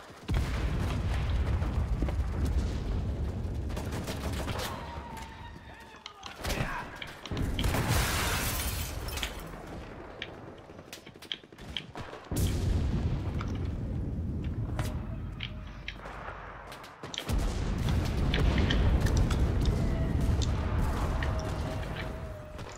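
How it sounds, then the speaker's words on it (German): Artillery barrage in the World War II shooter game Enlisted, with loud, dense crashes and booms rolling continuously through the scene and brief quieter gaps between volleys. "So, Artillerie wird gelegt."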